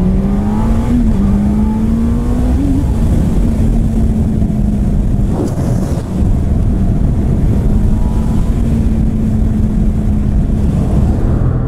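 A 2018 Honda CB1000R Neo motorcycle accelerating away, its loud, close engine note holding a steady drone that climbs in pitch through the gears, with strong wind rush throughout.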